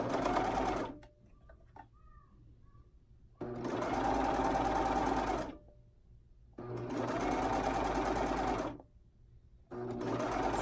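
A serger sews stretchy swimsuit fabric with its trimming knife engaged, running in three loud, steady bursts of a few seconds each, separated by short pauses.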